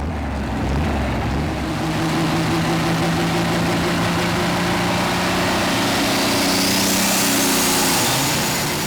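New Holland 8560 tractor straining under load during a tractor pull at a championship event, a loud, steady engine roar with a rising whine toward the end, heard close.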